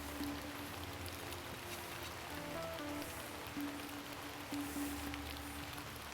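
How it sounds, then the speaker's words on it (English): Steady outdoor rainfall patters on surfaces in a continuous, moderately faint wash of drops, with no talking. "I'm gonna have to do all this hunting in the rain."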